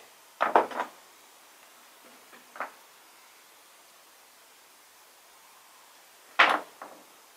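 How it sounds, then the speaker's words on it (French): A small hammer taps lead came into place on a stained glass panel during leading: three or four short, sharp, close knocks spaced several seconds apart in an otherwise quiet room. "Un petit coup de marteau."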